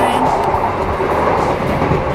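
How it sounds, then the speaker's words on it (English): A moving train gives a loud, continuous rumble and rattle, heard from inside the carriage. "I'm on the train"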